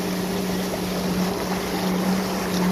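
Boat motor drones steadily while cruising out for spearfishing in the Bahamas, a loud continuous engine hum mixed with wind and water rush, with no talking.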